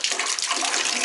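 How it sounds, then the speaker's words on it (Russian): Cold water gushes from a builder's mixer tap in a steady, loud, close rush of flow with no voices over it. "Открываем кран холодный."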